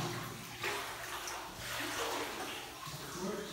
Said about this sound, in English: Ooh, that water dripping on me.